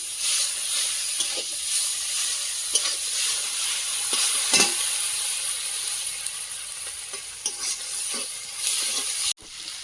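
Food with turmeric frying in oil on a new stove gives a steady, close, bright sizzle throughout, broken by soft scraping stirs and occasional louder crackles.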